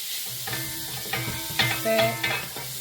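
Pork pancetta cooking in a pan and being stirred, giving a low frying hiss with a few soft scraping strokes and a light ringing clink, close and with no voices.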